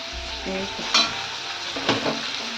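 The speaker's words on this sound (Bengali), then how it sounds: "এই যে আলু ভাজা হচ্ছে" Potatoes fry in a pan with a steady crackling sizzle, broken by a couple of sharper scrapes as they are stirred, and no one speaking.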